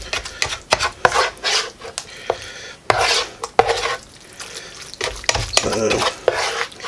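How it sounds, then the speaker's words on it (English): Ground beef mixed with sauce and cheese being stirred in a bowl, giving a run of close, uneven scraping and clinking strokes of a utensil against the bowl, with no talk. "We're gonna give this a good mix."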